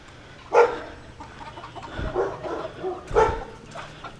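Farm chickens make a couple of short, sharp clucking calls between quieter rustling and soft background sounds, fairly close by, with no speech.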